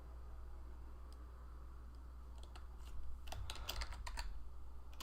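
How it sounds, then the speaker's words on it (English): Fingers type on a computer keyboard, a few scattered clicks early on, then a denser burst of quick keystrokes in the second half over a steady low hum. "Oh, I'm on the Korean out keyboard still."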